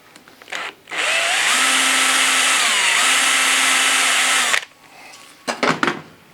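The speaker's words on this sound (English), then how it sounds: "So I've drilled through the steel first" A power drill bores through a steel sheet on a recycled-timber beehive lid, whining loudly and steadily for about three and a half seconds, with short bursts of tool noise before and after.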